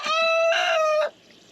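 Chickens kept penned near a hen house give a single loud, drawn-out crowing call lasting about a second, rising and falling, with a faint trailing cluck as it ends.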